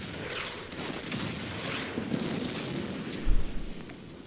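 Artillery and gunfire in the WWII strategy game Order of Battle: a steady rumbling battle bed with scattered sharp reports, building to a heavier low booming burst near the end, with no talk.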